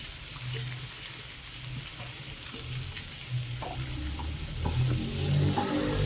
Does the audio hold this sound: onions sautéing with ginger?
yes